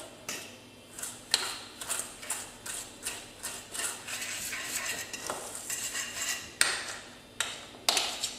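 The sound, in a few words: creaming shortening with sugar in a mixing bowl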